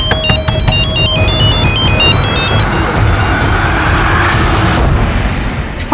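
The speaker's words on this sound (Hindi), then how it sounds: "इरफान, मैंने बोला था ना मुझे फोन मत करना।" Phone ringtone playing a repeating electronic melody, loud and continuous, over dense background rumble in a crime drama scene, cutting off near the end.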